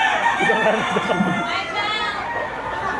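Roosters crow and cluck at a chicken market in Batangas, with several birds heard in a nearby crowd. People chatter loudly over and around the calls.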